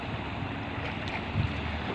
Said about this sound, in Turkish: balıkçı teknesini görüyorsunuz.